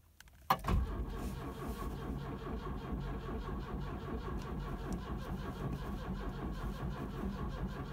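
An old carbureted Ford with a mechanical fuel pump and a pre-engaged starter motor cranks after a sharp click. A steady, rhythmic churning continues for several seconds and the engine does not catch.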